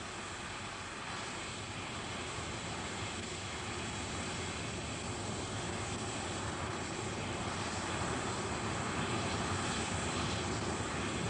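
Jet airliner with four reheated Olympus engines taking off, a continuous broadband roar that holds steady and fairly distant throughout, with no voices over it.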